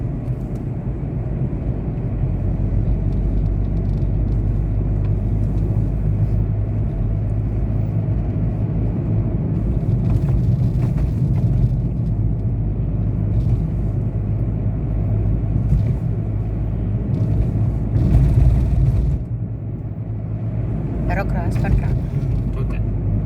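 Car driving through early-morning Bangalore traffic, a steady low engine and road rumble running throughout, with passing vehicle swells and faint cabin talk beneath.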